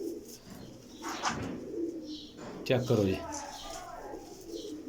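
Teddy pigeons coo in a few low, throaty bursts nearby, mixed with light bird chirps and rustling, while someone speaks briefly.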